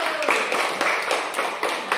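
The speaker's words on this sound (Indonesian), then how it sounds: "Tepuk tangan dulu." A small group of students in a biology classroom claps hands together, a short burst of sharp, somewhat uneven claps that sounds close and moderately loud.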